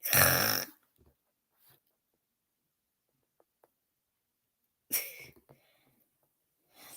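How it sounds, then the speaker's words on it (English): A cat snores in two loud, raspy breaths several seconds apart, with near silence and faint small noises in between. "My cat's like currently snoring underneath the Christmas tree, and she's loud"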